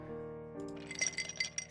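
Ice cubes clinking against a glass of ice water in a horror video game, a quick run of bright, close taps over a sustained musical drone.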